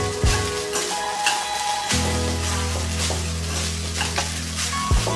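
Herbed rice with finely chopped fresh coriander stirred in a pan, a soft sizzle running under repeated scraping and mixing strokes, fairly close and steady, with no talking.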